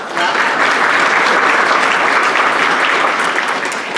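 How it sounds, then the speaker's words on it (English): Applause from the audience at a Rotary club meeting, loud and dense clapping from many people that holds steady throughout. "So please give Megan a round of applause."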